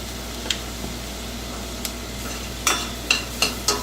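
Onion is stirred in melted butter with fresh oregano and black pepper for a tomato sauce, giving a soft steady sizzle broken by a few light scraping strokes of the spoon.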